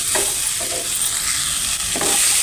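Tomato, onion, garlic, ginger and green chilli fry in a pan for dhaba-style palak paneer, a steady loud sizzle with scraping stirs of a spoon running throughout and no talk.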